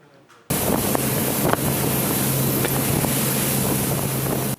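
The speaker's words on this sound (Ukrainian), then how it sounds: "Шум моря, звуки вітру та горизонти попереду це звичні речі для бійців" Loud, steady rush of wind and sea noise with a low droning hum underneath, starting abruptly after a brief quiet moment.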